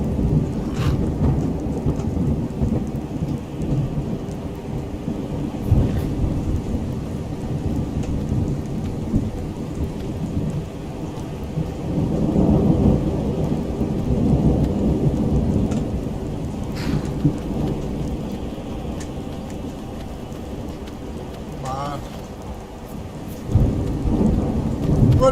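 Thunder and rain in the video game Skyrim, a steady downpour with low rolling rumbles of thunder swelling and fading across the whole stretch, no voices.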